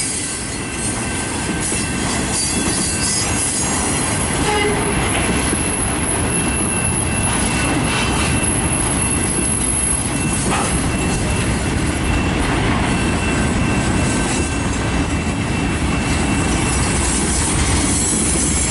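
An eastbound CN freight autorack train led by locomotives CN 3811 and CN 2289 rolls past in Battle Creek, Michigan, a long loud steady rumble of rail cars with wheel squeal and rhythmic clacking throughout.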